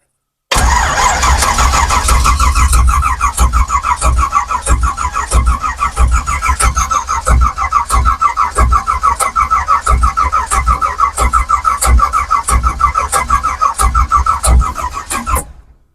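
A race car engine is cranked with its ignition on, giving a rapid, even, chugging rhythm that runs loud and close for most of the stretch, with no voices over it.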